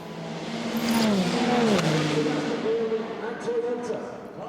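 Le Mans race cars, a Ferrari prototype leading with a Toyota close behind, roar past at the 24-hour endurance race, their engine notes rising and falling steadily under a commentator's continuous talk.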